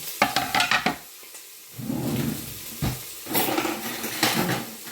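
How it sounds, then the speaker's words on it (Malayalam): Chopped ginger and garlic go into a cooking pan, with metal utensil clatters and scraping at the start, then stirring and sizzling in a busy home kitchen with repeated pan knocks. "നമ്മുടെ ഇഞ്ചിയും വെളുത്തുള്ളി എല്ലാം ഞാൻ അരിഞ്ഞു വെച്ചിട്ടുണ്ടായിരുന്നു അപ്പോൾ അതും കൂടെ ഇടാം"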